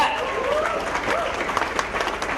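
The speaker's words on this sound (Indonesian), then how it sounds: "Tepuk tangan buat teman-teman yang ronda." A crowd at a campaign team press conference applauds the night-watch volunteers, steady dense clapping with some voices mixed in throughout.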